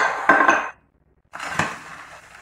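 Potatoes tipped into a gratin dish in a home kitchen, giving two short clattering bursts of food and dish contact separated by a brief silence.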